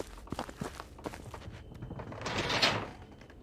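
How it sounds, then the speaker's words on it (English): Footsteps in the horror video game Them and Us, a series of soft, muffled steps at moderate distance, followed by a rising creak or whoosh, with no speech. "Footsteps."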